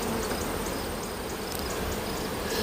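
Honeybees buzzing around an open hive as the honey supers are taken off for winter: a dense, steady swarm hum close by, with individual bees whining past now and then, and no talking.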